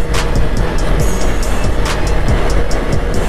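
A car speeding flat out during a road race, giving a loud, steady roar of engine and wind noise throughout with faint repeated ticks on top.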